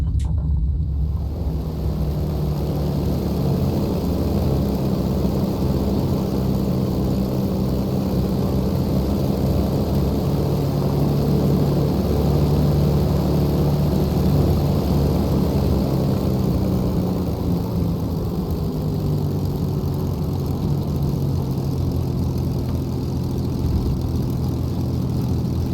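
Flight Replicas P-40N WarHawk model plane taxiing slowly on the ground, its engine droning in a steady loud rumble with a constant hum and shifting tones throughout, no voices over it.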